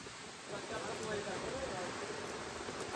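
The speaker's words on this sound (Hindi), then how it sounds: "गाइस यहाँ रात के 4 बजे से हमारे यहाँ बारिश बहुत ज्यादा हो रहा है।" Heavy rain pours down in a rural village, making a dense, steady hiss that fills the whole three seconds at moderate volume, without a break.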